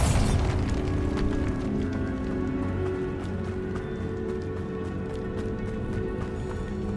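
A Bombarda spell going off in the Hogwarts Legacy video game: a dense, rumbling blast at the start, then a sustained low roar and clatter that carries on under game ambience throughout.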